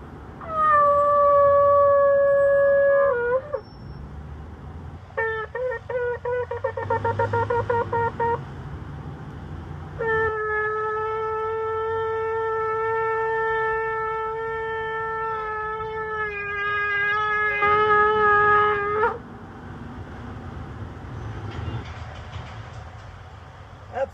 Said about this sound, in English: to be able to blow that shofar and sound that siren that's been sounding for the ages